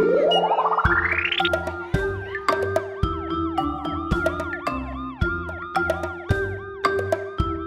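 Cartoon police car siren in a children's colors song, a rising wail followed by bouncy, repeating siren tones and chiming musical notes, loud and playful.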